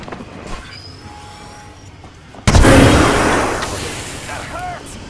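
A frag grenade blast in the shooter game Apex Legends, a sudden loud broadband boom that cuts in midway and rumbles as it slowly decays, with game ambience and a voice before and after.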